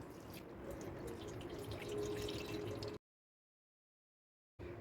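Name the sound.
cold water poured over boiled bitter gourds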